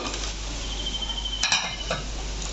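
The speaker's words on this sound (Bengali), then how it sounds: "এরপরে আমি ঢাকনাটা খুলছি" A lid is lifted off a pot of duck meat being braised, giving a brief metallic clink and scrape over a steady background hiss of cooking.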